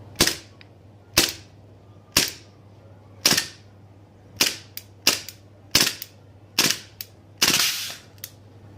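Shots from a gas blowback airsoft pistol fired in cold conditions until its gas magazine runs empty, about ten sharp, loud cracks at irregular intervals roughly a second apart, each followed by a brief hiss.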